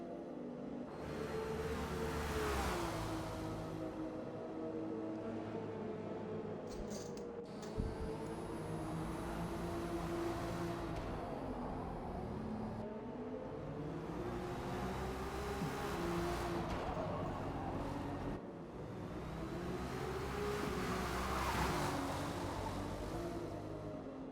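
Acura race cars lapping Mid-Ohio in a sim racing game, engines droning steadily and close throughout with rising and falling pitch as the cars run down the straightaway, no talk over them.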